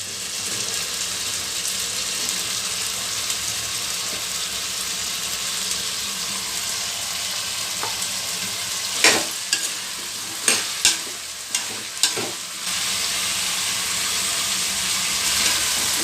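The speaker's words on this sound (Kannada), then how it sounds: "ಈಗ ಹೂಕೋಸು ಹಾಕ್ತೀನಿ" Cauliflower tossed into potatoes already frying for a puri aloo gobi curry, giving a continuous sizzle with a few sharp clanks of a spoon stirring against the pan.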